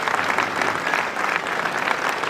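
Loud, dense applause from an audience at a success seminar honoring a mentor, sustained clapping filling the room without a break.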